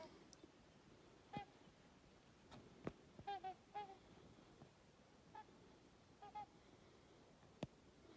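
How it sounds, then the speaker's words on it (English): Tundra swans calling in spring near a beaver trapping site outdoors, a scattering of short honking calls spread across the clip, fairly distant and faint over a steady background hiss. "Those are actually all tundra swans."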